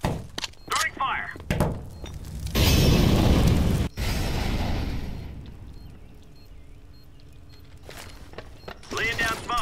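An incendiary fire grenade is thrown in a tactical shooter video game, giving a dull thunk and a burst of roaring flame noise that swells and fades, with players shouting and talking over it.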